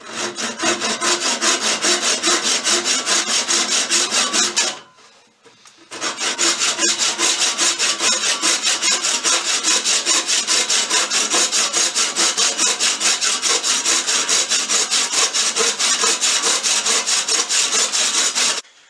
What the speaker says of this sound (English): So I would just use a basic saw.